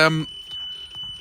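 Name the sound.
car warning beeping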